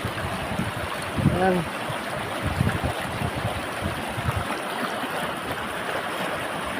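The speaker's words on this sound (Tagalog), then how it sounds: "malakas yung current ng tubig." Continuous rushing of a strong water current while fishing, a steady broadband wash heard close, with someone speaking briefly over it early on.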